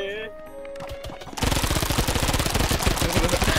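Rapid automatic gunfire in the block-building game Miniworld during a Manhunt match, bursting in loudly after a quiet opening with faint game sounds and continuing as a steady, dense rattle of shots.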